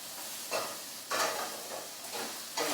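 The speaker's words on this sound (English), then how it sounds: "So I'm just searing the outside" Beef searing in a hot pan, a steady close sizzle that swells in four short bursts as the meat is moved or pressed.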